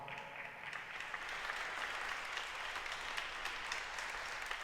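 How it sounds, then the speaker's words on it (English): Steady crowd applause at a women's college basketball game in a gymnasium, dense and sustained clapping that fills the space at an even level throughout. "Please give both of these people a round of applause."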